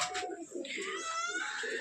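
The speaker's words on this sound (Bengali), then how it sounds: "মাশাআল্লাহ লাল কবুতর জোড়া।" A pair of red colour-matched breeding pigeons coos in a loft, a string of soft low calls under a voice.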